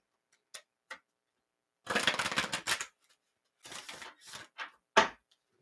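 Tarot cards being shuffled by hand, soft papery riffles and taps in short separate bursts with quiet gaps, close and fairly faint, no talking.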